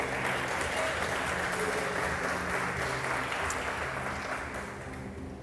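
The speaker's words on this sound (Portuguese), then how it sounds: "Você pode aplaudir a Ele nessa noite?" A church congregation applauds steadily during an evening service, the dense clapping filling the room and easing off slightly near the end.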